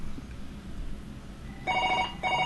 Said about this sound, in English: Oh, there's your phone call.